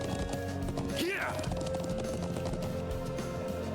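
A horse gallops in the Trails of Cold Steel video game, a steady run of hoofbeats over game music, with a brief whinny-like swell near the start.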